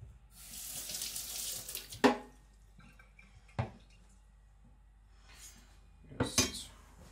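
A Chinese cleaver is rinsed under a running kitchen tap while it is being sharpened, giving a near, splashing water flow with a few sharp metallic knocks against the sink and intermittent bursts of spray.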